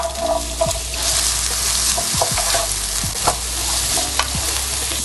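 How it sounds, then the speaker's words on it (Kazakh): Carrots and onions fry in oil in a pan, giving a steady broad sizzle with soft scraping and stirring noises and a few light clinks throughout. "сәбіз бен пиязды жақсылап қуырып аламыз"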